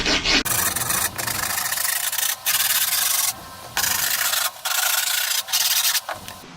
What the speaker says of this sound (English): So I took a screwdriver and I rubbed it along the edges of the board